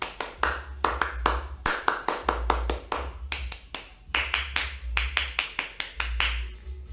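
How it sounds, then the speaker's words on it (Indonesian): A group performs the Indonesian scout clap (tepuk pramuka), sharp rhythmic handclaps in quick patterned bursts with brief pauses, loud and close, repeated for several seconds with no talking. "Dua kali tepuk pramuka."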